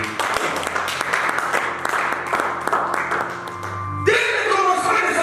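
A church congregation claps in a steady rhythm under voices during a worship service, the claps sharp and regular before fading near the end.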